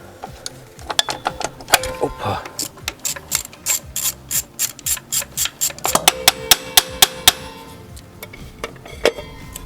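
Repeated metallic ratcheting clicks from a wrench loosening the brake rod on a new DTZ 504 tractor, a steady run of sharp ticks in bursts, close up, with brief pauses between strokes.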